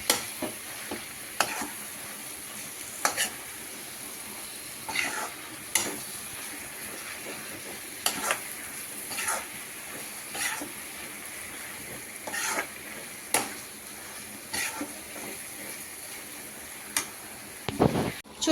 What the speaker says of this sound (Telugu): గోంగూర బాగా ఫ్రై చేసుకోవాలండి, మొత్తం దగ్గర పడిపోవాలి, అంతా ఫ్రై చేసుకోవాలి గోంగూరని.